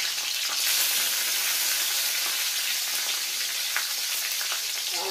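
Dry red chillies, bay leaves and whole cumin sizzle steadily in hot oil, a close, loud, continuous crackling fry with no break.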